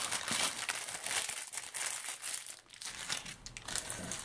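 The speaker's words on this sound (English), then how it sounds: "I'm sorry for all the crinkly." Crinkly plastic packaging of a birthday and Christmas haul item, including a Queen of Hearts piece, is handled and opened, giving continuous close, loud crinkling and crushing rustles with no talk.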